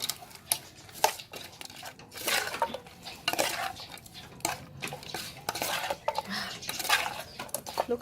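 Larb gai, a Thai minced chicken salad with lime juice, stirred in a bowl, giving repeated close scraping and clinking strokes of a utensil in an uneven rhythm, with faint bird calls in the background.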